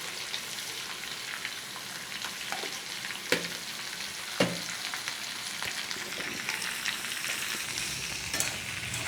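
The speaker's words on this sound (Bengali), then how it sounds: "এটা আমি একটুখানি নাড়িয়ে নিয়ে তারপরে এতে আমি একটু জল দিয়ে দেবো।" Potato and carrot curry with coriander and cumin powder frying in a pan, a continuous close sizzle with occasional sharp clinks of the spoon against the pan as it is stirred, no voices.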